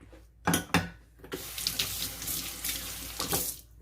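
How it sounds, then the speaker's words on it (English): Water runs from a kitchen tap while sticky hands are rinsed, starting with a couple of splashy bursts before settling into a steady close hiss of flowing water that continues to the end. "Rinse off my sticky hands."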